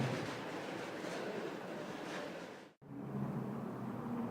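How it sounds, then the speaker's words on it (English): Shopping wagons loaded with purchases rolling past outside an IKEA store, a continuous rumbling, rattling roll of wheels on pavement that dips briefly to near silence before resuming, close by and without speech. "And the noise you're hearing are people passing by with wagons, with stuff they have bought from IKEA"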